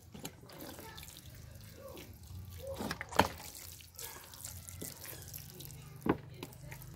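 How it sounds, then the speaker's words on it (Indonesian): Soil of red ginger plants in a planter bag watered to keep the growing medium moist, with soft trickling and splashing water close by and a couple of sharper knocks. "siram bagian media tanamnya supaya lembab ya"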